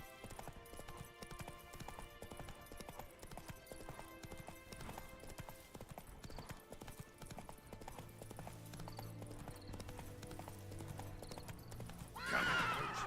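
A horse in The Witcher 3: Wild Hunt gallops steadily with rhythmic hoofbeats over in-game music and ambience, then a louder burst near the end.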